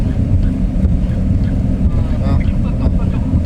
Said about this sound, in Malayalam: ഭയങ്കര കാറ്റാണ്.